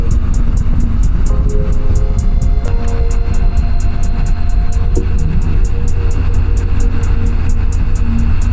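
A loud truck passing close by on a road during a motorcycle ride, a broad steady rumble of engine and tire noise that holds strongly throughout, mixed with wind and ride noise.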